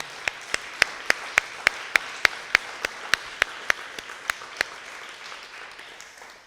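Audience applause at a tribute event: a small group claps in an even, regular rhythm of about seventeen sharp, close claps, then it fades into soft scattered clapping and room noise.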